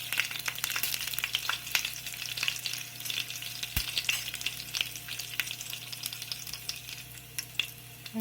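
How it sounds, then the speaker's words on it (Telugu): Curry leaves, two green chilies and cumin seeds fry in hot oil for a coriander tomato chutney, producing a close, continuous sizzle dotted with sharp crackles and pops. "ఈ ఆయిల్ వేడైంది ఇందులో కొద్దిగా కరివేపాకు రెండు మిరపకాయలు కొద్దిగా జీలకర్ర"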